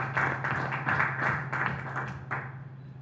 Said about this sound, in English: I would like to ask for an applause for this new member.